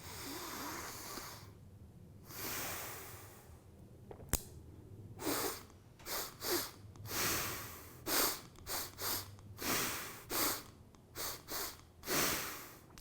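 Deep breaths during breathwork, a slow rhythmic series of loud, close inhales and exhales, some sharp and snorting, coming in quick pulses after a quieter start.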